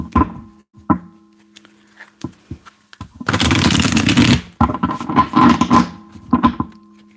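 Tarot cards being shuffled up close: a few soft taps and thumps, then a dense riffling burst of cards lasting about a second, followed by several shorter shuffles and light knocks, no voices.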